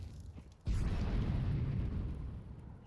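Rapid Mac-10 submachine-gun fire in Counter-Strike on the Inferno map during a competitive esports match, a dense, sustained roar of bullets that cuts in abruptly and rumbles on loudly.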